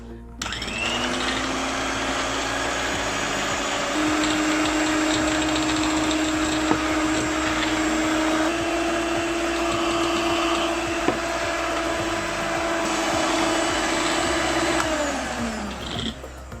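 An electric beater whipping eggs and sugar for a carrot and dates cake, a steady loud whirring motor running nearly unbroken, close up, with faint scraping against the bowl.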